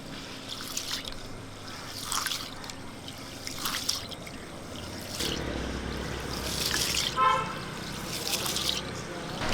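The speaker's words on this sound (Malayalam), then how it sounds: "ഇതിലൊക്കെ വെള്ളം ഒഴിച്ച് നമുക്കൊന്ന് കഴുകിയെടുക്കാം" Green gram and rice being washed in a bowl of water, with soft trickling and swishing that grows busier and splashier midway, close by and moderately quiet.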